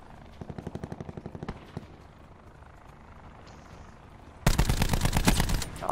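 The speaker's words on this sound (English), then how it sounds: "Oh, I just got shot from behind." Automatic gunfire in Call of Duty: Black Ops 4: a rapid burst of shots early, then a quieter gap, then a loud, close sustained volley to the end, no voices.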